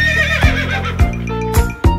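Repeated horse neighs in a children's farm song, loud whinnying whose pitch rises and falls, set over music with thumping beats.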